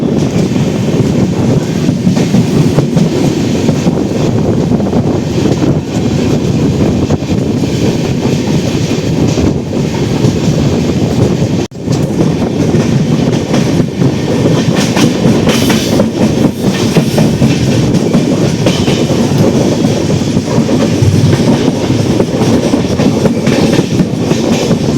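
The Andaman Express rolls through the small Ramnagar intermediate station in Jammu and Kashmir without stopping, a loud steady rumble with rail clatter and wind buffeting, continuous for the whole stretch.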